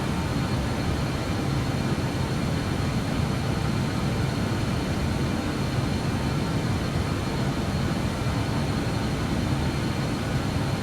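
A BAe 146 airliner's jet engines in a flight simulator game give a steady, loud, unbroken roar with a deep low rumble, heard alone throughout.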